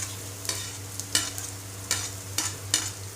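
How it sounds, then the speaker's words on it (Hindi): Cumin seeds crackle in hot oil as pulao cooking begins, a steady close hiss of frying broken by several sharp pops and stirring scrapes spaced through the moment. "ये देखिए जीरा मेरा तड़कने लगा है"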